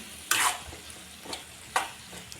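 Chopped tomatoes for kuzhambu hiss in a hot pan in three short, separate bursts of sizzle, the first loudest, with quiet gaps between.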